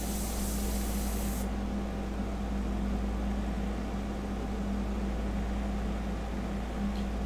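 An airbrush hisses in a steady continuous spray while paint goes onto a sepia fine-art portrait, with bright airy noise at first and then a softer constant hiss over a low hum.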